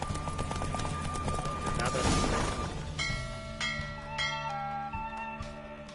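Horse hooves galloping in a race in The Witcher 3, a quick, steady clip-clop rhythm that is loud and close, carrying through other game sounds, with ringing tones joining over the second half.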